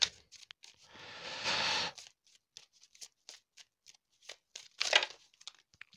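A deck of oracle cards (Oracle de Magie Pure) is shuffled by hand in one dense riffling burst lasting about a second, then a scatter of soft card taps and flicks, followed by another brief rustle.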